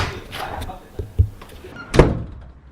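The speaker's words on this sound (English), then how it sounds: "I think he has a thing for just being loud with doors" A door bangs shut with a few heavy thuds, one sharp slam standing out loud and close amid room noise and some talking.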